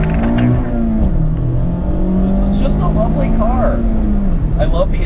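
A Mazda Miata sports car engine revs up toward its 7,500 RPM redline and holds high, its pitch rising and falling in a strong, continuous whine, with faint voices in the background.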